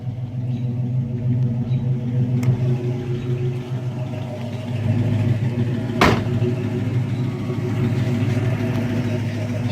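A 1963 Ford Falcon Sprint with its 260 V8 and four-speed idles steadily nearby, a low even rumble with a faint lope that holds for about ten seconds, one sharp click midway.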